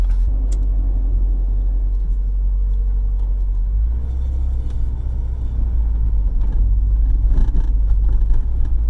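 A Mazda NA Miata's cabin on the move carries a constant loud road rumble and engine drone, with scattered faint clunks and rattles from the suspension as the car rolls over bumps.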